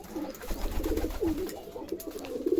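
Pigeons coo steadily in a loft where eggs have hatched and squabs are present, a continuous layered murmur of low rolling calls from several birds, close and moderately loud with no talking.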